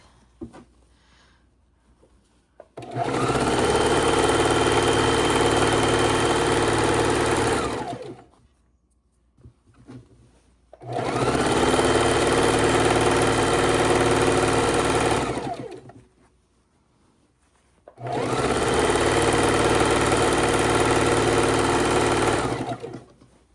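A sewing machine stitches quilt fabric scraps in three long, steady bursts of loud, rapid whirring, each separated by a few seconds of near silence.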